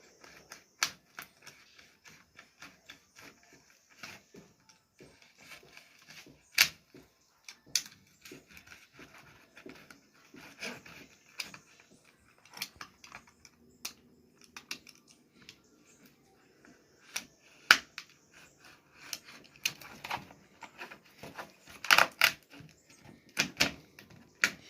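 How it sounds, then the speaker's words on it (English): Cutting the edge of a homemade sustain pedal, heard as irregular sharp snips and crisp clicks spaced through the clip, close and fairly quiet against near silence. "I'm just going to cut the edge right here."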